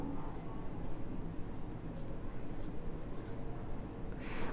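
A pen scratches across paper as an accounting ledger entry is written by hand, soft continuous strokes up close, with faint speech in the background.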